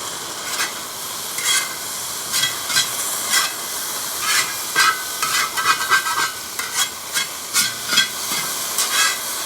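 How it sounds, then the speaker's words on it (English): Mushrooms sizzle in a ripping hot cowboy wok, a steady loud frying hiss broken by repeated bursts of scraping and stirring, close up with no talking. "You like that sizzling that's happening?"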